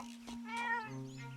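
A cat gives a single short meow in The Legend of Zelda: Echoes of Wisdom, a clear game sound effect over faint background music.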